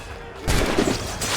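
Gunfire in the video game Assassin's Creed Rogue: a brief burst of loud, booming shots that erupts suddenly after a quiet moment and lingers as a rumbling rush of noise.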